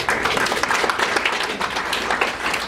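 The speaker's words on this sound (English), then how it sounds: "So we applaud that." Audience applause at a Las Vegas solar business showcase, dense continuous clapping from many hands, fairly loud and close, sustained throughout.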